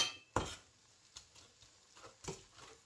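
A spoon scrapes and stirs thick ukkaram sweet batter in a pan, giving a sharp clink followed by a few softer, scattered scrapes and taps, close and fairly quiet.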